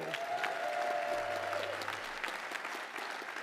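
Audience applause fills a trade union congress hall, a steady wash of many hands clapping from start to end, loud at first and thinning slightly toward the close, with no talk over it.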